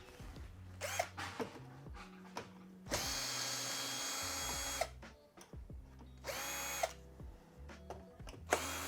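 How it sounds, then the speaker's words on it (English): Power tool backing screws out of a Samsung washing machine during a leak repair, several short whirring drill bursts with two longer sustained runs, close and fairly loud, separated by clicks and handling noise. "we have to remove these two screws as well."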